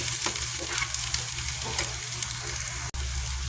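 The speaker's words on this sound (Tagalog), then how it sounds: "brown ang ating bawang sibuyas" Garlic and onion sautéing until brown for Filipino mung bean stew, a loud, dense, continuous sizzle with faint stirring scrapes and one brief sharp click near the end.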